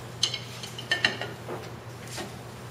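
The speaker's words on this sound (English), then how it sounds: "just scrape off the heavy stuff and load it in your dishwasher." Dishes and utensils are set into the racks of a Bosch dishwasher, producing a few sharp clinks and knocks of ceramic and metal in quick succession, fairly quiet and without talking.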